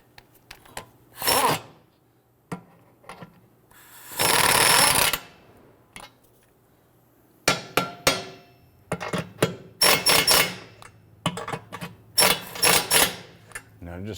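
A tool runs in short, loud, near bursts tightening the center bolts of a 2011-2021 Jeep Grand Cherokee transmission mount, with clanks and rattling between them.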